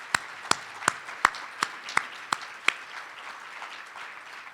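Applause at an alumni legacy celebration event, heard as a run of about nine distinct, evenly spaced sharp claps that fade into a quieter room murmur, fairly near and without talk.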